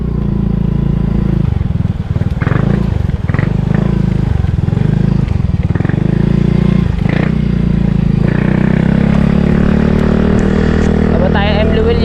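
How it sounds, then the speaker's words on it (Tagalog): A motorcycle ride in the Philippines: a loud, close engine drone runs throughout with shifts in revving and road rumble, and someone talks over it. "At nakasakay na sa motor."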